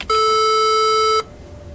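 A PC speaker driven by the PIT timer under TempleOS gives one steady, loud electronic beep lasting about a second, then cuts off abruptly into quiet room noise.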